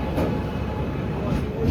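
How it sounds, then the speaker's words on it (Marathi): A passenger train running from Chennai to Ahmedabad pulls into a station platform, giving a steady, loud low rumble of rolling carriages with voices murmuring nearby. "आपली ट्रेन आली आहे."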